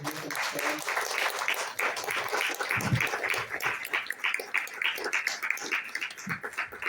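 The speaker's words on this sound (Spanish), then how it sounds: "¿Cuántos pueden darle un aplauso al Señor" Church congregation applauding together, a steady mass of close and distant clapping with a few scattered voices mixed in, lasting the whole span.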